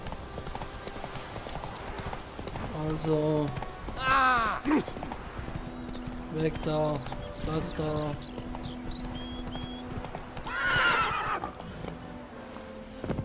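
A horse in Witcher 3 gallops with rhythmic clip-clop hoofbeats and lets out several loud neighs and whinnies, while someone speaks briefly over the game sounds.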